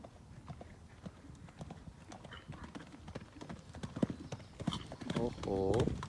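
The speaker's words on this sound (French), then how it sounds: "Arrêtez bien son cheval droit pour que le cheval comprenne à ne pas courir dans la dernière ligne." Horse hooves clip-clop in a steady rhythm as the horse moves through a jumping gymnastics exercise over four obstacles, fairly close, with a person talking over it throughout and a brief snort or whinny near the end.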